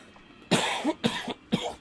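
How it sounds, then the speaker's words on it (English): Three sharp coughs in quick succession, close and loud, with brief pauses between them. "Got a cough."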